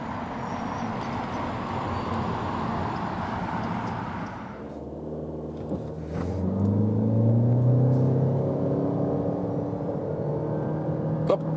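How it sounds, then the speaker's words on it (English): A 2023 Toyota Corolla facelift with a 2-liter hybrid accelerating from standstill to 70 km/h, a steady cabin rumble giving way to a rising engine hum that climbs in pitch and swells, heard from inside with no talk. "That was 0 to 70 kilometers an hour with the 2-liter hybrid."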